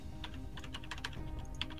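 Rapid typing on a computer keyboard, a quick run of light, close clicks in an irregular rhythm over a faint background hum.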